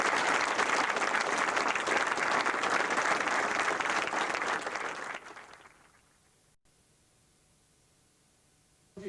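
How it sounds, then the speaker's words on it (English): Audience applause at a diploma ceremony, a dense, loud wash of clapping that holds steady for about five seconds, then tapers off into near silence. "Give them a round of applause."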